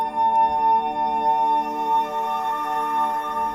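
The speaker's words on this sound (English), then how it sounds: "What you're hearing right now is the sound of a music box" A sustained, shimmering bell-like tone of a wind-up music box note stretched out to several seconds hangs in the air, metallic, with a faint tick near the start and no clear attack.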